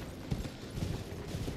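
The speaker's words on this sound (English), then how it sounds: "So now we can ride a horse!" Horse hooves clopping in a steady rhythm while riding in the video game Elden Ring, close and moderately loud over a continuous background bed.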